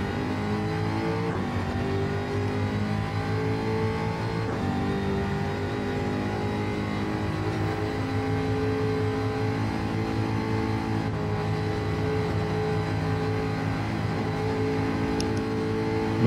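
A Jaguar F-type's engine pulls hard around a race circuit, a loud, steady drone with layered harmonics that rise and fall slightly as the car holds near full throttle through corners, continuous and close throughout.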